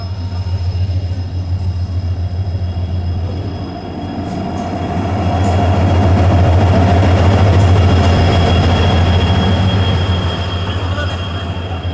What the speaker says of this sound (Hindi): हमारी ट्रेन आ गई है लालगढ़ जंक्शन पर और आज इसमें लगा हुआ है लुधियाना शेड का WDP 4D लोकोमोटिव